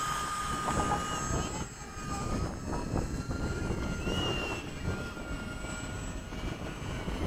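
Radio-controlled model jets, an F/A-18, a Hawk and a UMX Shrike, making touch-and-go passes at a flying field, a steady whining engine drone that rises and falls at mid distance, with faint voices in the background.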